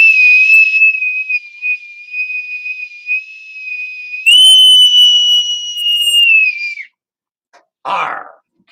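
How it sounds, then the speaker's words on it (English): A bosun's whistle blown loud and close, holding a long, steady shrill note that jumps to a higher pitch partway through and then cuts off, followed by a brief breathy rustle. "bosun's whistle."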